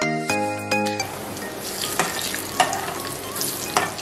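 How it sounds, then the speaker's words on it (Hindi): Maggi pakoras, hand-rolled into balls, drop into hot oil. Tonal knocks come first, then a busy bubbling sizzle rises and carries on, broken by a few clatters, close up and without talk. "ये हमारे मैगी पकौड़े गए तेल के अंदर"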